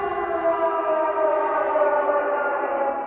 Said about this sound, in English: when you hear the siren, it's terrifying.